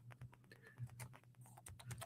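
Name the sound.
typing on a computer keyboard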